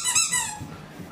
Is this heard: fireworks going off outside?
no